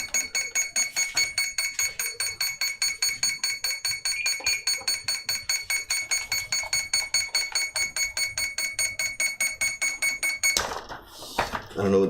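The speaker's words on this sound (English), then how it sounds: "I don't know what that beeping's all about" A steady electronic beeping alarm sounds in a rapid, even pulse for about ten seconds while work goes on to bind up and refit a wing, then cuts off into a few knocks and handling sounds.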